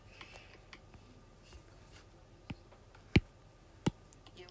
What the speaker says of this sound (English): You can hear my Apple Pencil clicking,